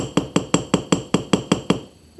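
Hammer strikes texturing a metal jewelry blank, nine sharp evenly spaced metallic taps with a ringing quality, close and loud, ending with a brief low hum.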